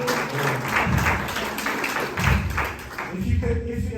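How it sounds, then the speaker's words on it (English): Audience clapping during a business masterclass talk, a steady patter of applause with some thumps, fairly close, mixed with speaking voices throughout. "you can clap."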